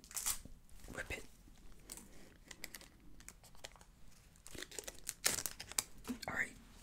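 Packaging is stabbed with a knife and ripped open, with loud bursts of crinkling and tearing plastic between quieter pauses, recorded up close.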